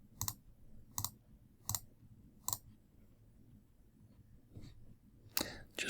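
Computer mouse clicks, sharp and close, come in a regular run of four about two-thirds of a second apart, then after a pause a softer click and two louder clicks near the end, with quiet room tone between.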